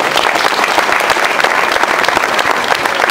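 A large audience claps steadily and loudly at a speech event marking the 25 March and 1 April commemoration, a dense, continuous wash of applause with no speech over it.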